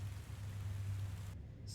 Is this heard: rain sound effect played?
yes